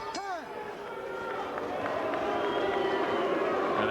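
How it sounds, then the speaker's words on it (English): Boxing crowd at the Felix Trinidad versus Rodney Moore fight, a broad steady arena roar that swells and holds, with a commentator's voice over it. "And again, the crowd reacts."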